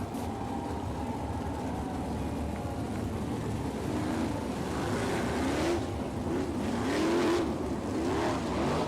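Dirt track race cars roar off at the start of a 40-lap All Stars versus NCRA race at Haubstadt, Indiana, a dense, continuous engine drone swelling with rising revving whines, heard from the grandstand.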